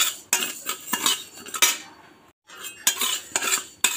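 Rice and moong dal are dry-roasted in a pan and stirred with a metal spoon, giving a quick series of close scraping and clinking strokes separated by short pauses, with no talk.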